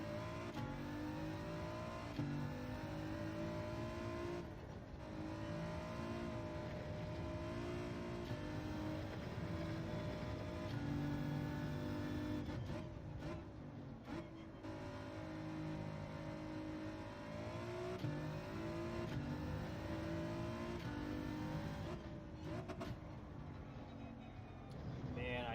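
A race car in Gran Turismo 7 on medium tires drones and revs continuously, its engine pitch climbing and dropping through gear shifts, while someone talks over it at times.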